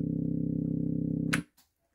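A french house bassline from a simple triangle wave synth bass pulses steadily on root notes, a low rhythmic hum that cuts off abruptly near the end, followed by a brief click and near silence.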